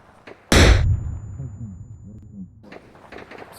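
Grenade exploding on impact in the Arma video game, one loud sudden blast followed by a long rumbling decay, with faint clicks before and after.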